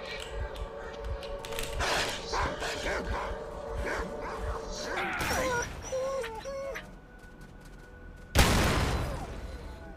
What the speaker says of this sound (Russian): Та собака здесь откуда?